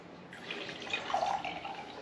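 Water runs and trickles while a bottle is refilled, a close, uneven splashing flow that starts after a short pause and grows a little louder midway.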